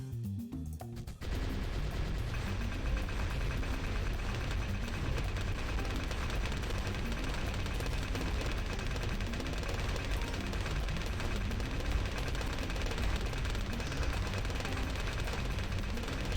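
Rapid, unbroken automatic fire from a Dartling gun in the Bloons TD tower-defense game, a dense, steady stream of shots kicking in after a brief pause and holding at an even, loud level to the end.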